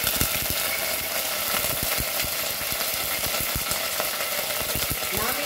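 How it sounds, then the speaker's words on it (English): Curry leaves fry in a tablespoon of hot oil for a Goan chicken keema, giving a loud, dense crackling sizzle with rapid popping spatters throughout, close and continuous with no talking. "So let's add 1 tablespoon of oil, and in that I will leave this curry leaves."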